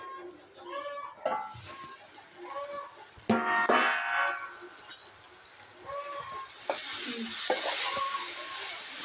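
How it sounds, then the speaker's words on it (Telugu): Steady sizzling of food frying in a pan, with a voice talking over it and a brief clatter of stirring. "ముక్కలు అయితే ఫ్రై అవుతున్నాయండి"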